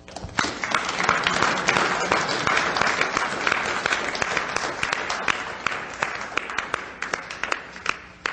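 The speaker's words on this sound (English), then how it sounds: "So let's give a warm round of applause to Mr." An audience gives a warm, sustained round of applause to welcome lecturer Jordan Maxwell before his talk on the roots of religions, a thick wash of many hands clapping that holds steady and thins slightly toward the end.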